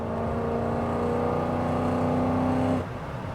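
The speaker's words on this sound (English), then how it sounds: "that V8 compressor just does not get old" Modified Mercedes E55 AMG with a supercharged V8 accelerating at night beside a sound wall, a rising whining engine drone heard from inside the car that cuts off sharply just before the end.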